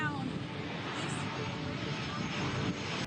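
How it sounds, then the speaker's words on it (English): A low-flying airplane coming down to land passes close over a residential neighborhood, a loud, steady engine roar that fills the whole moment while a voice talks over it. "Neighbors tell me when planes come by, it's so loud, it flies so close to their house."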